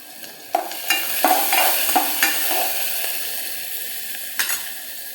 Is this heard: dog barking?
no